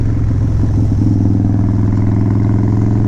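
Harley-Davidson Dyna Wide Glide motorcycle with extensive engine work, idling loud and close with a steady low lumpy rumble that holds unchanged throughout.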